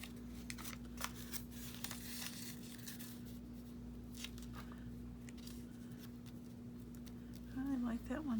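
Scissors snipping through cardstock in short repeated cuts, faint crisp snips over steady room hum, ending with a brief voice.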